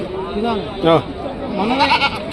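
Goats bleat at a weekly livestock market, with a couple of short, wavering cries rising over close, busy human chatter and bargaining voices.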